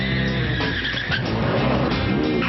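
A highly modified street car at a drag strip, the California Speedway in Fontana, roars loud and close with a dense engine howl and tire screech throughout, steady and continuous.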